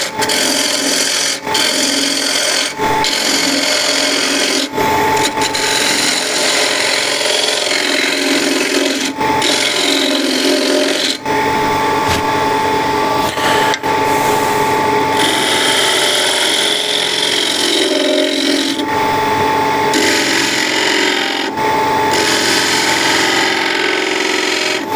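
A spindle gouge cuts wood on a lathe with a loud, continuous scraping hiss, broken by a few brief pauses as the tool lifts off the spinning workpiece.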